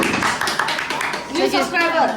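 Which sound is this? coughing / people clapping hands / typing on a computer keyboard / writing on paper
people clapping hands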